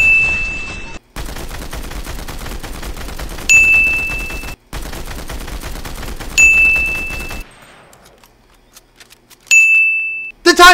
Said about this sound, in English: The gold scar versus the gold combat assault rifle in Fortnite